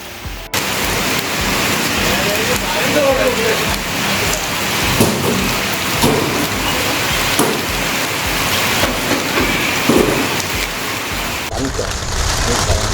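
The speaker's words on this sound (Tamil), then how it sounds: "மழை வந்து ரொம்ப கம்மியாக தான் பெஞ்சிட்ருக்கு" Light rain falling steadily during an outdoor honey harvest, a continuous close hiss of drops pattering on surfaces with no pauses.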